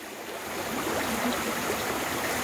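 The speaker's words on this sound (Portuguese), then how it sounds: "Muita chuva, riacho com enchente." Floodwater from heavy rain rushes through a swollen creek that serves as the spillway of a reservoir, making a steady, loud, close roar with no pauses and no voices.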